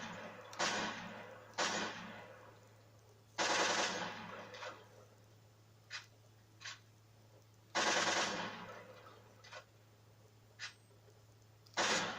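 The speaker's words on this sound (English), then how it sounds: "which is an automatic shotgun." AA-12 automatic shotgun firing in Call of Duty: Modern Warfare 2, heard as loud short bursts of rapid blasts separated by pauses, with a few single lighter shots between them over a steady low hum.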